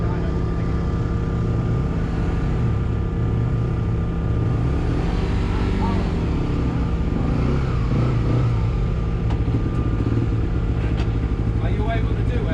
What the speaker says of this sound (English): I'll speak again when there isn't somebody revving a bike